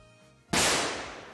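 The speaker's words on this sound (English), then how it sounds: "Thank you for the gunshots." A single sharp gunshot-like blast in the Pokémon Unite video game, an abrupt loud crack that decays into a short echoing tail, heard alone.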